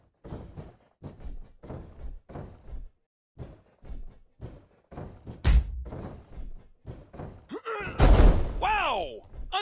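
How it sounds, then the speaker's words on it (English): A pro wrestler is driven face first into the ring mat with a DDT, a heavy booming thud around the middle of the clip followed by loud crowd roar and a second impact, with commentary talk throughout. "Unbelievable impact there. A thunderous DDT."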